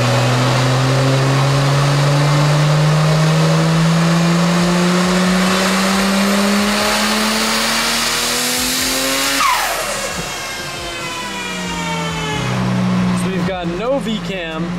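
A Nissan R34 GTR on a dyno pull without VCam, its engine roaring loud and close as the pitch rises steadily through the run, then dropping and cutting back to lower revs near the end.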